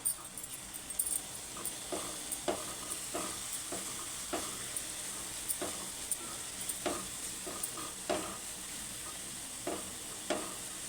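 Ginger garlic paste frying in a pan with turmeric for a dhaba-style masala egg curry gives a steady close sizzle, broken by regular scraping stirs of a spoon against the pan, with no talking.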